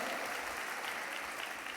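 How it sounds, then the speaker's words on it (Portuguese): A church congregation applauds in praise during a worship service, a dense, steady wash of many hands clapping throughout the short moment. "Aplauda o Senhor, Rei da Glória, aplauda o nosso Deus"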